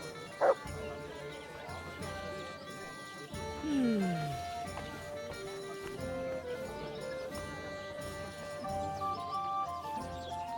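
A dog barks in a medieval village setting within the video game Kingdom Come Deliverance 2, its barks sounding over a steady bed of game music and ambience, loud and close, with voices around it.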